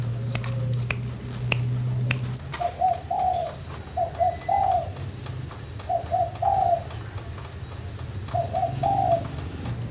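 A zebra dove coos in repeated soft phrases, several short rising-falling calls in a steady rhythm, close by over a low background hum.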